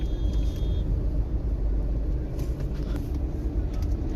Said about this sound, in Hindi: ट्रैफिक हो रखा बिल्कुल